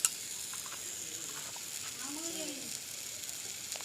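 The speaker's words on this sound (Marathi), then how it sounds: "ते मीठ चांगल्या प्रकारे ढवळून घ्यायचं" Eggplant bharit cooks over a wood stove while salt is stirred in, giving a steady close sizzle and hiss with faint scraping of the spoon; a voice is faintly heard in the background.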